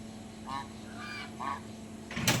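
Geese on an integrated poultry farm give three faint, nasal honks spaced about half a second apart over a low background hum, with a brief noisy burst at the end.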